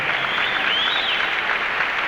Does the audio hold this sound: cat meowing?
no